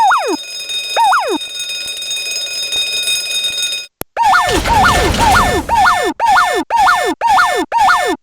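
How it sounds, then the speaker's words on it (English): The silent alarm in The Simpsons Hit and Run video game blares loudly. A warbling electronic tone repeats steadily, briefly drops out, then returns over a crashing rumble with rapid, pulsing alarm cycles. "Silent alarm activated."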